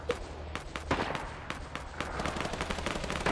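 Dense video game gunfire, overlapping distant and nearer shots in quick irregular bursts crackling continuously over a low background rumble.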